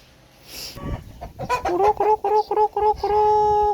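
Chickens cluck and squawk in a quick run of rhythmic calls, close by, after a brief rustle.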